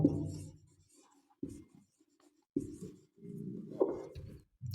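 Chalk or marker strokes on a board during a lecture come in short scratchy bursts with pauses, close and fairly quiet.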